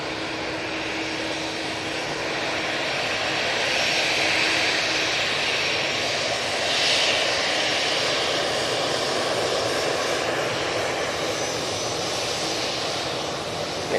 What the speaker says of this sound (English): Ryanair Max on the roll, off to Almeria.